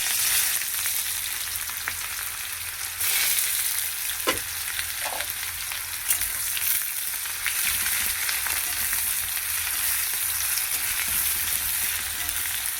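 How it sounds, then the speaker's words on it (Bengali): Chopped onions fry in hot oil in a kadai, a loud, steady sizzle that runs throughout, with a couple of faint utensil knocks near the middle and no talking. "পেঁয়াজটাকে একটু ব্রাউন করে ভেজে নেব।"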